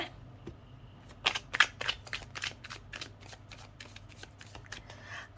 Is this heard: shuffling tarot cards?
yes